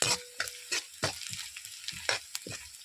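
Chopped onions and green chillies fry in a pan with a steady bright sizzle and crackle, broken by louder scraping stirs as the mixture is moved around, close and without any voices.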